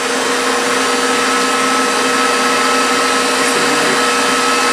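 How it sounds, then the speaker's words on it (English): An electric mixer runs on high speed, beating a gingerbread cheesecake mixture until foamy, a loud, steady, unbroken motor whir from start to finish. "I'll put the mixer on high speed."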